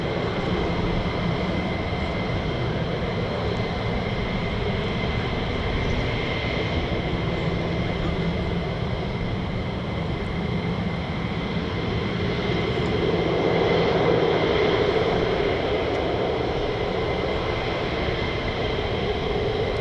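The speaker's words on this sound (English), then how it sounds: "You get to see the F-15 a little bit longer." An F-15 fighter jet at RAF Lakenheath, its engine a continuous loud roar and whine, holding steady and swelling slightly partway through.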